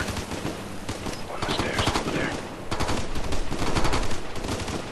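Rapid gunfire in Ghost Recon: Future Soldier as enemy snipers and riflemen are shot, loud dense bursts of shots cracking repeatedly over a steady battle din.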